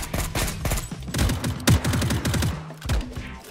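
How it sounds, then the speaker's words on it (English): Gunfire in the survival video game Unturned, a dense, continuous run of rapid shots and bursts over a few seconds that stays fairly loud throughout, with no voices over it. "I'm still getting shot at by the same guy."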